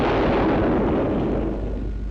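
An AMX 13 tank's main gun fires once, a loud deep boom with a rumbling roar that slowly fades over two seconds.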